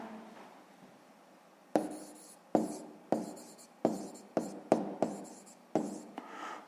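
Pen strokes writing digits by hand during a sixth-grade maths exercise: about nine short, distinct scratches in an uneven rhythm, close and fairly quiet, with no talk.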